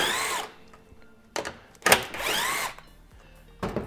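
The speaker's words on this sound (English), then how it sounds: "I'm gonna remove the two bolts." A power tool, likely a drill or impact driver, removes the lower grille bolts on a 2016-2019 Toyota Tacoma during a TRD Pro grille install, with several short whirring bursts separated by pauses, close and fairly loud.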